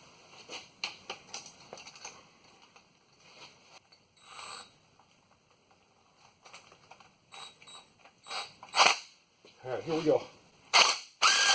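Ratchet clicking while snugging bolts on the front end of a 1997 Chevy 1500 truck with a 5.7 engine, scattered short mechanical bursts and creaks, close and intermittent, with brief speech near the start.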